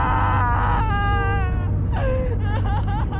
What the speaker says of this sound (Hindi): तभी अचानक एक दिल दहला देने वाली भयानक रोने की आवाज उनके कानों में टकराई।